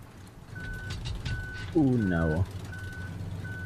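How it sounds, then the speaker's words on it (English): A truck in Human Fall Flat gives steady, evenly spaced reversing beeps throughout, while players talk over them and one briefly exclaims. "don't worry about the beeping sounds"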